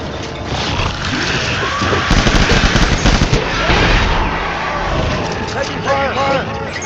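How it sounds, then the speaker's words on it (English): Dense gunfire in the video game Death Stranding, with rapid overlapping shots and bursts in a loud, continuous wash of noise, mixed with voices. "Taking fire!"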